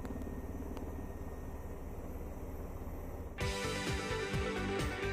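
A Surion military helicopter's steady rotor and turbine drone holds for a few seconds, then swells abruptly into a louder, harsher roar with pulsing low-end beats, close and continuous.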